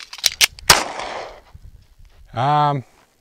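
Handling a pistol during a drill: a magazine drops, is pushed back in, and the slide snaps forward, giving a quick run of sharp metallic clicks and clacks followed by a short voiced call.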